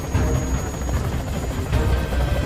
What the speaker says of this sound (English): Rick, along with Jaguar, stole this helicopter